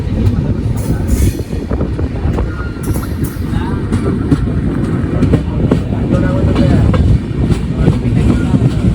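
The Gol Gumbaz Express rumbles loudly and steadily into Mandya railway station with clanking metal and a faint squeal of wheels, voices murmuring beneath the din.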